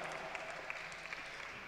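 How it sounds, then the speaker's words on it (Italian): Audience applause at the Italian women's junior Olympic weightlifting championship in Lido di Ostia: a faint, steady patter of clapping that holds evenly for under two seconds with a few sharper claps standing out. "Un applauso, grazie."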